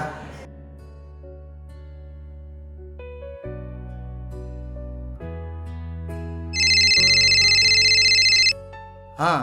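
An electronic phone ringtone plays as a tonal melody, then a bright, loud high-pitched ring bursts in near the end before cutting off.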